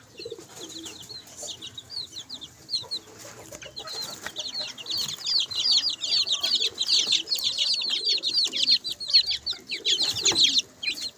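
Pet chicks chirping indoors, a dense chorus of rapid high-pitched peeps that is sparse at first and builds to continuous overlapping calls, close and fairly loud.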